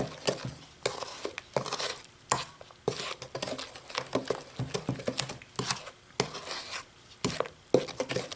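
Sourdough biscuit ingredients with oil and baking powder being stirred in a bowl, giving a run of irregular scraping and clattering strokes, fairly close and moderately quiet, with short pauses between bursts.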